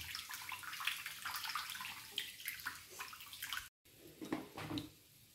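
Dish wash liquid is swished and stirred into water for cleaning kitchen containers, giving a close, continuous watery sloshing and splashing with a short break and softer swirling afterward.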